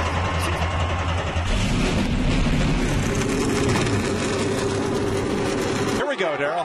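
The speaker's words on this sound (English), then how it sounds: "Gentlemen. Start your engines." NASCAR race car engines firing up together at the Auto Club 400 in Southern California, a dense, loud, continuous roar and rumble that cuts off abruptly near the end.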